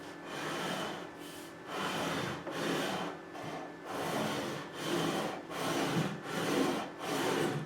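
Leveling bar rubbing with light pressure across the frets of a Fender Custom Shop Stratocaster neck, a close, dry wooden rasping in about eight steady back-and-forth strokes.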